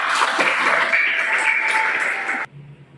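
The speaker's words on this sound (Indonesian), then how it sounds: "Oke, tepuk tangan dulu." Applause in a classroom, a dense, steady round of hand clapping from a group of students lasting over two seconds, then cutting off abruptly into a quiet room.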